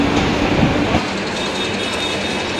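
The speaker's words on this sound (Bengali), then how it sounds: "এই ফাঁকা ট্রেনটি কার শেডের দিকে এখন এগিয়ে যাচ্ছে।" An empty train rolls out of Lalgola station toward the car shed, a loud continuous rumble with clattering wheels and a brief squeal near the start, no voices.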